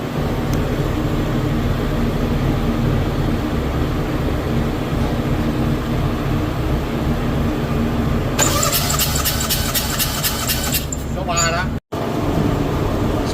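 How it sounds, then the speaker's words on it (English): Small Honda Beat kei roadster with a swapped E07Z engine idling roughly and loudly up close, a constant engine drone, then near the end a burst of rapid popping backfires before a brief cut. "It runs. It's backfiring real bad though"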